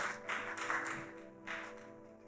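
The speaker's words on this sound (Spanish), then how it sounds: "¡Un fuerte aplauso!" A church congregation at a Sunday service claps in a few short bursts of applause, quiet and somewhat distant.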